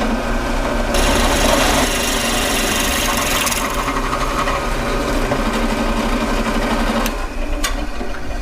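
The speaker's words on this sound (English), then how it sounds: "So I'm going to go ahead and drill one out right now." A power drill bores a hole through a wooden block for a duck call, a continuous loud whirring rasp that shifts pitch slightly as the bit bites, then eases near the end.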